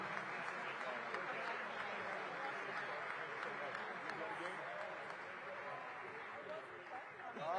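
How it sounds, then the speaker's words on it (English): Audience applause at an outdoor groundbreaking event for a new Capital arena in Washington, a steady wash of clapping from a crowd, fairly distant and even throughout, with talk mixed in. "give them a round of applause as they make their exit"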